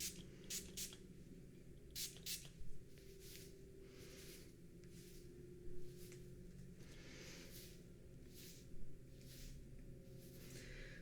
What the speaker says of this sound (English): I'm just gonna give it a little spritz with this conditioner